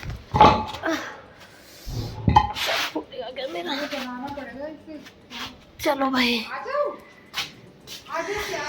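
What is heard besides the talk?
dog barking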